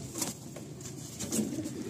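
Madrasi and Giribaj pigeons coo softly inside a pigeon loft in Garia, Kolkata, low murmuring calls that come faint and intermittent, with a light flutter of wings and no talk.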